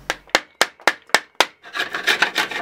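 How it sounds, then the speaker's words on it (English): A chisel works bevel-down through pine wood, making six sharp, evenly spaced cutting strikes followed by a rougher stretch of scraping and paring, close up with no talk. "to remove this bulk, we're going to be using a chisel"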